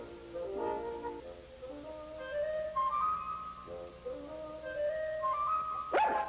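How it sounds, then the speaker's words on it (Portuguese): A dog whimpers and yips in a string of high, whining cries, fairly quiet, ending with a sharper bark. "Um cachorro era um tipo novo de ameaça."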